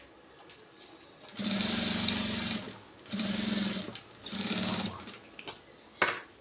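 A domestic sewing machine runs in three bursts, stitching fabric along a level margin: a steady close mechanical whir with brief pauses between runs and small clicks as it stops.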